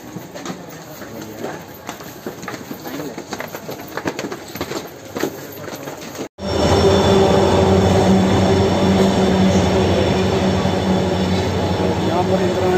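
The Indrayani Superfast Express pulls into platform 3 at Lonavala station, a loud, broad rumble of rolling coaches that starts suddenly partway through after quieter platform ambience.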